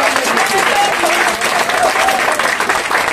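A church congregation bursts into sustained applause for Lydia, a dense, loud clapping crowd with voices calling out over it.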